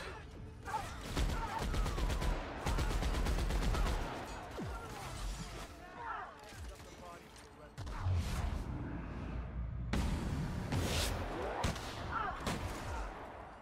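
Shotgun fire in the video game The Outer Worlds, repeated loud booming blasts over dense battle noise and game music, with someone talking over the action.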